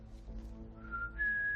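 A person whistles a soft, wavering tune to imitate a space flute, faint and brief, sliding up to a sustained higher note at the close.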